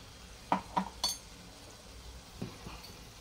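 A paneer bhurji mixture sautéed in a pan on full gas, with a few sharp clinks and scrapes of a metal spoon against the pan over a quiet background.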